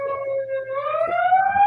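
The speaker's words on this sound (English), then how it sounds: "Sorry about the sirens." A wailing siren rises steadily in pitch, loud and close, with its tone sweeping upward over a low hum.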